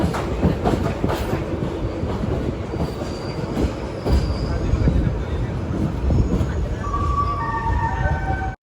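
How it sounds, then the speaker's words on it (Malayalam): A train pulling into Hubballi junction railway station, with a continuous loud rumble of rolling wagons and clacking wheels, and squealing brakes rising near the end. "ട്രെയിൻ ഇതാ ഹുബ്ബള്ളി ജംഗ്ഷൻ റെയിൽവേ സ്റ്റേഷനിലേക്ക്"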